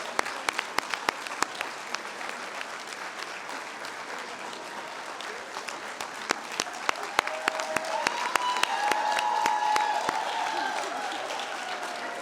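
Audience applause at a retirement ceremony, sustained clapping from a seated crowd with individual sharp claps standing out, swelling later as cheers and voices rise beneath it.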